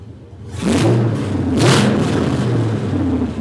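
A 5.3 LS V8 swapped into a 1993 C1500 revs hard on open manifolds with no exhaust, rising to a loud raw roar, easing and surging again in a steady close blast.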